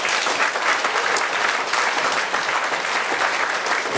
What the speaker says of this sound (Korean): 마찬가지로 좀 박수로서 힘차게 동의해 주십시오